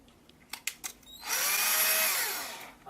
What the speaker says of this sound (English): You can either use a hand screwdriver or even electric screwdriver